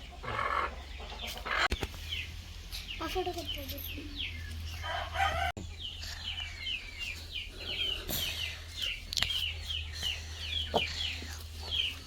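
Native village chickens cluck and chirp softly in the background, with a few brief sharper calls and occasional knocks nearby.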